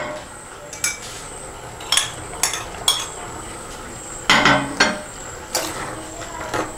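Stirring partly cooked chicken roast with potatoes and tomatoes in a pot for a Malabar-style dish, giving a series of scattered metallic scrapes and clinks from the utensil against the pot over a quiet kitchen background.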